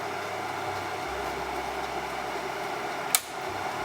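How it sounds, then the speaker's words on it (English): A steady, even whoosh of a hooded hair dryer runs throughout, with a brief click partway through. "I don't know if y'all can hear me because the dryer's on."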